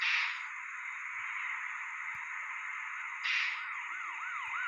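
A steady electronic police siren in a bus simulator game wails continuously, with a rising-falling yelp pattern near the end, loud and close with no voices.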